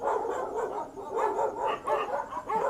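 Several dogs on a dog farm bark in bursts, loud and fairly close, with overlapping yips and barks repeating in quick irregular volleys.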